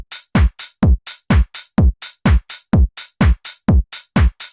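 A driving tech house groove loops steadily: booming kick drums alternate with sharp layered claps and sizzling open hi-hats in a tight, repeating four-on-the-floor pattern, loud and up front with no voices.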